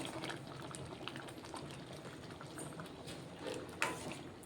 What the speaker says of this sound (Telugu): అలాగే కొంచెం వాటర్ వేసుకుంటాను